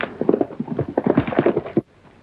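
A horse's hooves clip-clop close and loud in a quick, uneven rhythm for almost two seconds, then stop abruptly, leaving near silence, in an old Western film.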